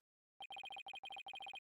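A telephone rings in the Ace Attorney 5 video game: silence, then a rapid string of crisp electronic trills in quick bursts with short gaps, clear and close.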